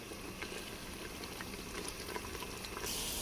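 Chana dal and bitter gourd roast in a pan with green chillies, giving a constant bubbling, crackling sizzle at close range that grows slightly brighter toward the end.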